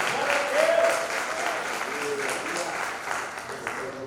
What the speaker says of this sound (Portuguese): Vamos dar um aplauso para ver o nosso coral que esteve Curitiba.